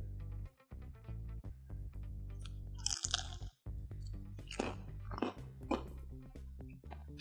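A crispy air-fried steak and cheese egg roll gets chewed close up, with loud crunchy bites and several crackling crunches over a steady low background hum.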